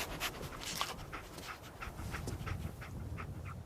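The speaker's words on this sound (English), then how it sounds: "Dog meat. Get the scent," Dogmeat, the dog companion in Fallout 4, pants in quick rhythmic breaths, close and fairly loud, with a steady run of short huffs.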